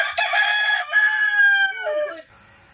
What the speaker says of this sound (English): we've been invaded by chickens